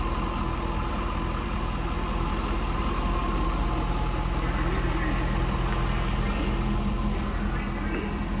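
A 2003 Chevrolet Corvette 50th Anniversary Convertible idling, a steady close engine rumble and drone that holds even throughout with no talking.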